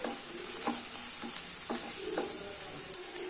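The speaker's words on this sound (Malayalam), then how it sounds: "ഇതൊന്ന് നന്നായിട്ട് വഴറ്റി കൊടുക്കണം." Onion, ginger and curry leaves sauté in a pan, a steady soft sizzle under intermittent scraping stir strokes, close and moderately quiet, no talking.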